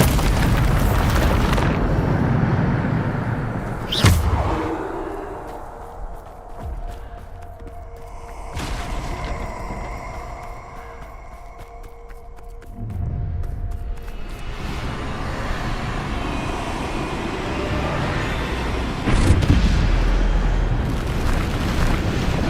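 Bombarda spell blasts in the video game Hogwarts Legacy, heavy booming explosions with sharp onsets near 4 and 19 seconds and rumbling roars through the rest, loud and close.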